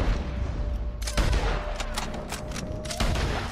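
Ship cannon fire in the video game Red Dead Redemption 2, a series of sharp booming blasts and cracks scattered across a few seconds over a constant rumbling background.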